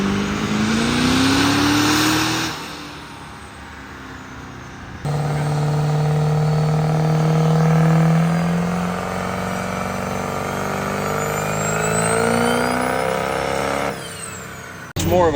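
A Duramax diesel pickup engine revs loudly at a diesel competition in long, droning bursts, its pitch climbing and easing before cutting off abruptly.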